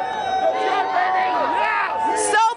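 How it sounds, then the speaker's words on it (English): Arena crowd roaring and cheering after the Vegas Golden Knights' 5-4 win in game 1 of the Stanley Cup Final, a dense, loud sustained wall of voices with whoops and shouts swelling near the end. "We got cheers. People are so excited."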